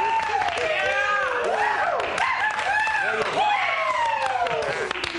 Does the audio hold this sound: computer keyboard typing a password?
no